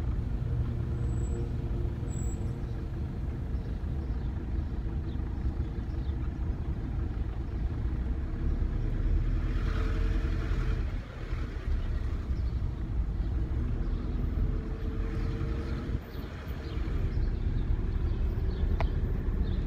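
A car drives toward an open field, its steady low engine and road rumble running close and continuous, with brief dips in level along the way.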